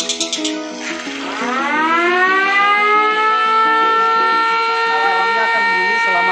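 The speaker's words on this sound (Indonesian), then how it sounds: "Alarmnya akan bunyi selama 18 detik." An anti-theft alarm siren wails loud and close, sweeping upward from a few opening chirps into a steady, continuous rising tone that holds to the end.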